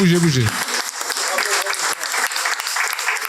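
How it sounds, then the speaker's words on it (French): A crowd claps loudly and steadily for a few seconds, the dense applause filling the room right after a brief voice at the start. "On va faire un petit applaudissement encore."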